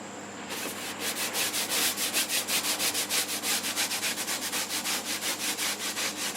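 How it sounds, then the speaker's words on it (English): Stiff scrub brush working a stained wooden deck wet with a peroxide and dish soap mixture: steady, rhythmic back-and-forth strokes, close and loud, after a brief pause at the start. "We're going to scrub it down with that first."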